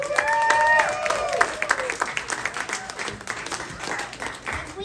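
A crowd breaks into applause that carries on for several seconds, loud at first then tapering, with a tonal sound fading out at the start.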